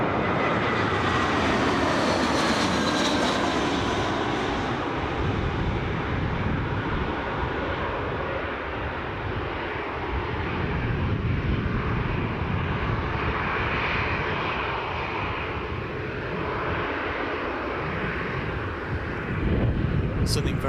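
A British Airways airliner at Newcastle airport produces a sustained, loud engine roar with wind buffeting; a voice talks intermittently over the rumble.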